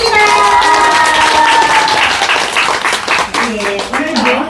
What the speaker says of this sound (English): I offer a round of grateful applause